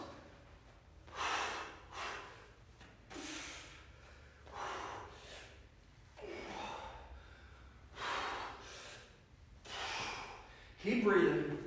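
Heavy, rhythmic breathing during a high-intensity interval workout, about seven loud breaths a couple of seconds apart, close and breathy, with a voice briefly heard near the end.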